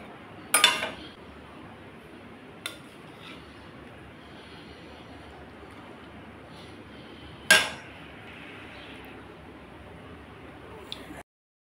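A few sharp clinks of dishes and cutlery as catla fish gravy is served: three isolated taps spaced seconds apart over a quiet, steady background hiss.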